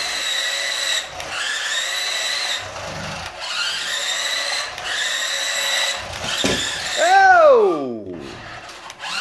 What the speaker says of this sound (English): You can hear the steering servo making a little noise in there.